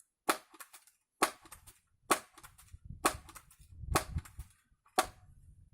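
An air rifle is pumped repeatedly, six sharp mechanical clacks at roughly one-second intervals, each followed by a softer low scraping stroke, close and clear.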